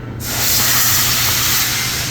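A spray gun sprays Teroson undercoating onto sound-dampening pads, rockers and wheel wells from about 8 to 10 inches away at full trigger. It gives a loud, steady, broadband hiss that starts abruptly and holds unbroken throughout.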